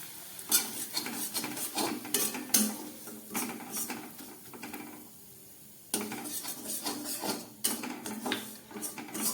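A spoon scrapes and stirs cashews, raisins and semolina with crushed cardamom as they lightly fry in a pan for modak, in repeated close, rhythmic strokes with brief pauses and no talking.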